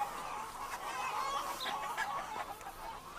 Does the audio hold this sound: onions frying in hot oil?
no